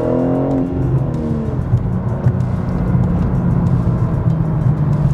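A BMW M4 with a manual gearbox rumbles steadily through a turn, its engine note droning loud and close with a brief rising tone at the start and a constant low roar throughout.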